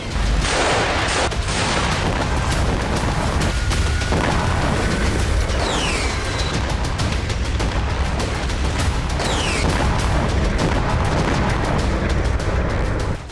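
A strike destroys a building in the West Bank, sounding as a dense, continuous roar of booms and blasts, loud and heavy throughout with no quiet gaps.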